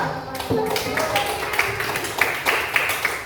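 Classroom clapping for a student group: a steady patter of many hands filling the room at moderate loudness, with a few sharper taps standing out and faint voices mixed underneath.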